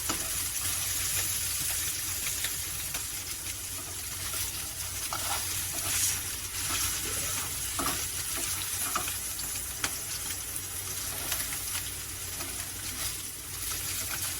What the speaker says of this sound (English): We'll make sure that all sides are seared just as beautifully, and we'll flip these to make sure that they all are.